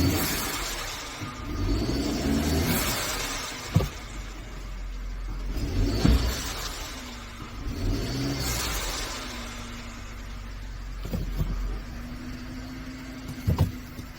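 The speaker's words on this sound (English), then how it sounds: "right now I am power braking it to" Engine of a 2013 Mercedes-Benz C250 with a check engine light, revving under load while power braking in reverse, rising and falling in several long, steady surges with a few sharp clicks between, heard close and fairly loud.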